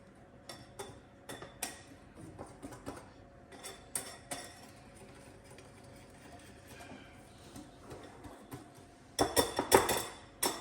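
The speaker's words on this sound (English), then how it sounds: "And then you just whisk your dry ingredients together" A whisk clinks against a bowl while mixing dry ingredients for healthy protein snacks: quick, light rhythmic taps, fairly quiet and close, growing louder and busier in a short burst near the end.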